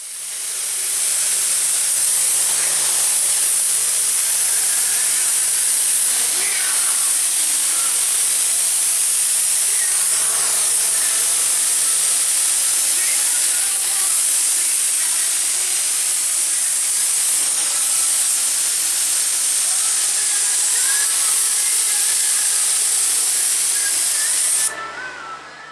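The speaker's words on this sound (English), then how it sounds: "Go ahead and put that in my cup and I go ahead and spray it." A spray gun sprays plastic adhesion promoter onto a golf cart, hissing continuously for about twenty-five seconds, a loud, even airy spray that cuts off abruptly at the end.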